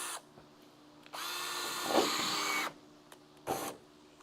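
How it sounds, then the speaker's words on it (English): A big power drill runs in a garage during metalwork on a crew cab Charger project car, a steady motor whine for about a second and a half with a rising surge, then a short second burst after a pause. "We're gonna need the big drill for this."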